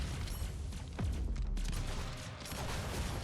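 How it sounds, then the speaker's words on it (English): Booming video-game explosions roll out in a dense, continuous barrage, with a heavier blast landing around the one-second mark and rumbling low underneath the crackle. "I do think this explosion is getting bigger"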